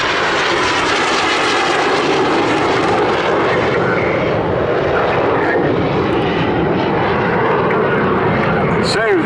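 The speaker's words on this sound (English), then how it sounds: "So the two aircraft now positioning" Two BAC Strikemaster jets at the Southport Airshow 2019 fill the air with a steady, loud engine roar that thins slightly toward the end, while a commentator talks over it throughout.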